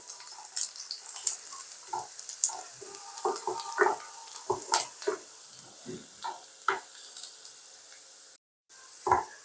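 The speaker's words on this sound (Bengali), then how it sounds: "আমি একটুখানি সর্ষের তেলে পেঁয়াজ দিলাম শুকনো মরিচ দিলাম একটুখানি রসুন দিচ্ছি" Onion, dried chili and garlic frying in a little mustard oil, heard as a quiet, uneven series of close pops, crackles and stirring scrapes over a soft sizzle, with no speech.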